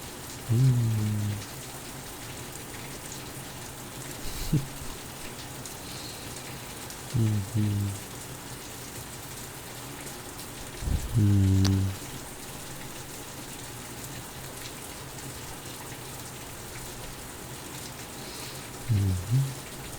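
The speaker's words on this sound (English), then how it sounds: "now that there's this lovely rain outside" Rain falling outdoors, a constant soft hiss of drops steady throughout, with a few brief low thuds or shifts nearby breaking in at intervals.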